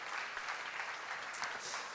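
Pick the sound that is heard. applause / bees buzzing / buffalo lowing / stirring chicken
applause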